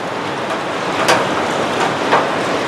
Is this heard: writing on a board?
no